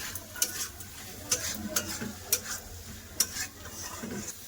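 Fried potatoes stirred with spices and cumin powder in a pan: a soft, continuous sizzle broken by sharp, repeated scrapes and clinks of a spatula.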